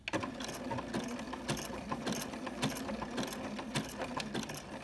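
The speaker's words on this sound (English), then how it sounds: "I'm going to back stitch." Sewing machine back stitching a candy cane coaster, a quiet rapid mechanical clatter of needle strokes in a steady rhythm, close and continuous with slight pauses.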